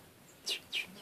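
Two quick high chirps from a young swallow being fed, close and fairly loud, spaced about a quarter second apart over a quiet background.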